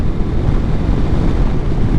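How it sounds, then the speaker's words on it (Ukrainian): Loud, continuous wind roar buffets the microphone of a motorcycle riding around 120 km/h on a Polish highway, a deep rumbling blast with no pauses. "реально вітер дуже сильно дує"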